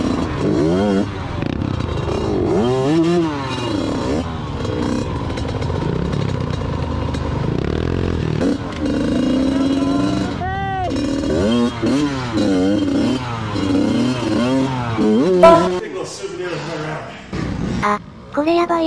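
A TM Racing 100MX mini dirt bike works through a hard enduro course at an off-road bike festival. The engine revs and bogs close by in uneven bursts, with clatter and short dips toward idle near the end.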